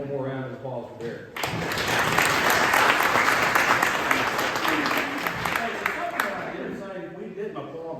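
Someone speaks briefly before a banquet audience at a drag racing awards night breaks into sustained, fairly close applause lasting several seconds, then tapers off into voices.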